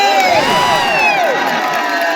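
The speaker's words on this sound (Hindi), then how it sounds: "एक बार जोरदार ताली" A volleyball semifinal crowd roars and cheers loudly, with shrill whistles and whoops layered over a dense wash of voices and some clapping.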